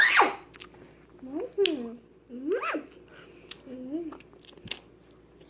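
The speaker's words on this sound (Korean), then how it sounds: "다 묻혀서 먹을게요." Someone eats a homemade pancake close to the microphone, with soft biting and wet chewing mixed with murmured, hummed vocal sounds between bites.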